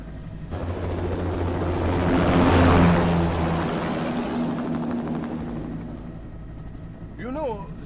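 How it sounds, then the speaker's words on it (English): A large aircraft in the video game Metal Gear Rising taking off, its engine roar swelling to a peak and then holding steady, with a constant whine and a voice talking over it. "Commencing takeoff in semi-auto mode."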